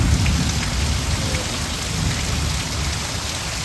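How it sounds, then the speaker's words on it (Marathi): Heavy monsoon downpour in the Konkan region, a dense, steady roar of rain pelting surfaces with low rumbling underneath, loud and continuous throughout with no voices. "एकावर एक सरी येतो. खूप सारा पाऊस चालू पडतो."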